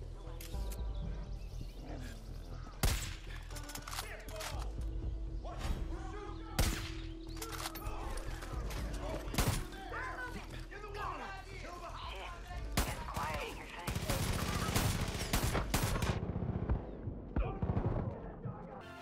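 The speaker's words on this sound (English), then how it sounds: "a lot of the guns sound like toys" Gunfire in the video game Far Cry 5: sharp, light shots ring out in scattered bursts and quick volleys over a steady backdrop of game sound, with a voice talking through much of it.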